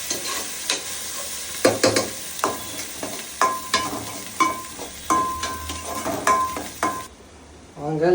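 Food is stirred in a cooking pan with repeated scraping strokes in a steady rhythm over a frying sizzle, close and fairly loud, with the stirring stopping near the end.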